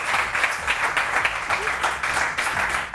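Studio audience applause on a Pakistani morning television show, a steady wash of many hands clapping together for the full three seconds, fairly loud and without any talk over it.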